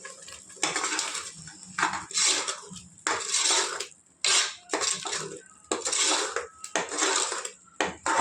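Chole masala curry is stirred in a metal pan, the spoon scraping and clanking against the sides in repeated bursts with short pauses between strokes, close and fairly loud.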